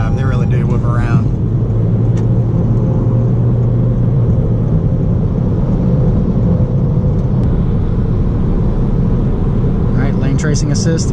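A 2019 Toyota Corolla hatchback driving, with a steady low engine and road rumble heard from inside the cabin, continuous and moderately loud throughout.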